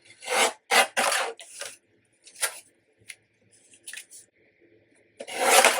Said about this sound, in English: I think I need to trim the bottom a little bit.